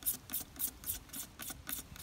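Plastic hair comb having its back edge sharpened, heard as close, faint rasping strokes, about eight quick even scrapes in a steady rhythm.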